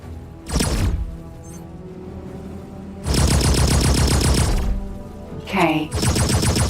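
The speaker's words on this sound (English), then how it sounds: "what the heck is that thing firing? Some kind of plasma blasters or ion guns?" Rapid bursts from plasma blasters or ion guns in the space game X4 Foundations, loud close streams of pulsed energy fire in three separate volleys, with synthetic swooping effects between them.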